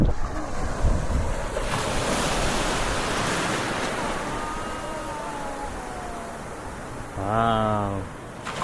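Surf washes and rolls onto the beach at Montemar under gusty wind buffeting the microphone, with a brief voice near the end.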